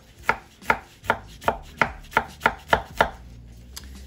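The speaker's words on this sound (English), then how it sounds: "we're gonna cut those planks into little squares and mince it up" A knife chops ginger into small pieces on a cutting board, eight crisp, evenly spaced blade strikes in a steady rhythm, close and fairly loud, followed by one faint tap.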